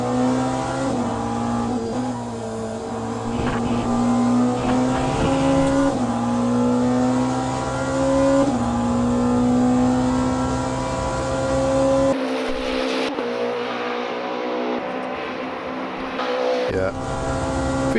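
A race car's engine drones and shifts pitch as it drives on cold tyres in a racing sim game, with a loud, sustained rising and falling tone and a brief drop-off near the end.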